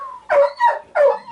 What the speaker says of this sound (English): Well, there's my dog.